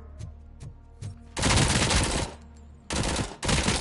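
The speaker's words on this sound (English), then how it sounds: "This is an Uzi." Uzi micro SMG bursts in the video game Robocop: Rogue City, with a few soft thumps followed by two loud sustained automatic bursts separated by a short pause, close and without talk.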